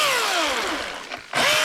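A Milwaukee M18 Fuel electric chainsaw whines steadily as it cuts through bush shrubs, its pitch sliding lower under load, then dipping briefly before a loud high-pitched burst of revving near the end.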